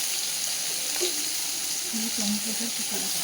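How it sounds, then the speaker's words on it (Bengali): Tomatoes, green chillies and salt frying in hot oil with black cumin for a rohu fish curry, a steady close sizzle with soft stirring sounds throughout, no talk. "এবার দিয়ে দিচ্ছে টমেটো আর সেরা কাঁচা লঙ্কা একটু লবণও একসাথে দিয়ে দিয়েছে"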